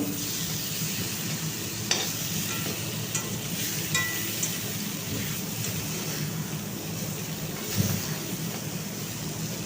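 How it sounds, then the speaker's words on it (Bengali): Pointed gourd (potol) fries under a lid in a covered pan, a steady soft sizzle and hiss with a few faint clinks and bumps. There is no talking. "এটাকে আমি ঢেকে মিনিট দুয়েক সময় ধরে পটলটাকে ভালো করে ভেজে নেব"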